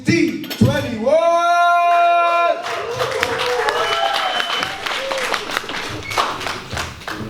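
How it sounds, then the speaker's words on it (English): An audience claps and stamps its feet for a performer at a welcome party for a contest winner. Dense, steady crowd noise builds after a loud voice and tones at the start, with voices mixed in. "keeping that same energy, stamping your feet and clapping your hands"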